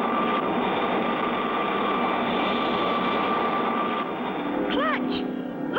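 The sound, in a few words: second and third stage rocket engines igniting, cartoon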